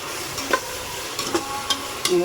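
Ingredients for a non-vegetarian biryani sizzling in a pan, a steady soft frying hiss with a few light stirring scrapes and clinks spaced through it, close and fairly quiet with no voices.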